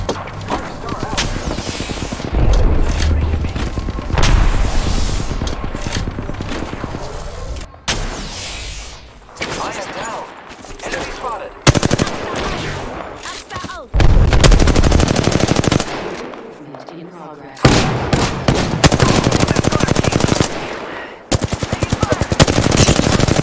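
Rapid automatic gunfire and heavy bursts from a video game battle fill the scene, loud and near, in repeated volleys with brief pauses, while a player talks over the shooting.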